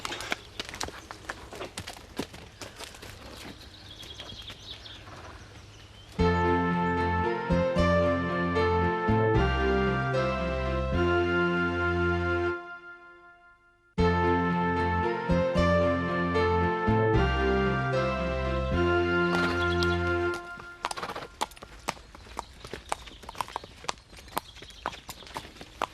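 Horse hooves clip-clop in a 1998 Emmerdale drama scene, sharp rhythmic knocks heard alone at the start and end, while a loud music passage plays over the middle.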